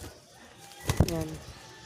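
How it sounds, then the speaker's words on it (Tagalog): Pigeons stir at close range, with a quick burst of wing flaps and a soft coo over faint background noise on a morning outing. "Ito naman mga kalapatid."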